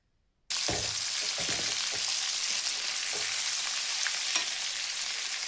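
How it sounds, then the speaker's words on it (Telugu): A tandoori chicken leg fries in a pan with a loud, steady, close hiss of oil that starts abruptly after a brief silence. Soft spoon or turning knocks sound now and then, and no one speaks. "ఇటువైపు కూడా ఒక 5 మినిట్స్ అలా వేగిన తర్వాత మళ్ళీ ఇంకో వైపు అలా తిప్పేసుకుందాం"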